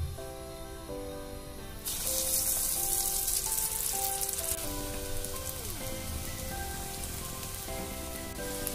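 Bread rolls coated in bread crumbs drop into hot oil for deep-frying, and a bright, steady sizzle starts abruptly and keeps going over soft background music.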